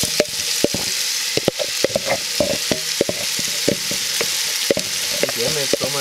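Onions and apples fry in lard and sugar inside a Dutch oven, a loud steady sizzle broken by frequent sharp stirring clacks and scrapes throughout, no talking.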